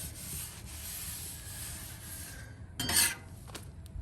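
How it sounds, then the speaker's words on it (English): A metal scraper rasps across a Blackstone griddle top in a steady, gritty scrape, with a sharper, louder stroke near the end and a few small clicks afterward. "Just use the scraper on top."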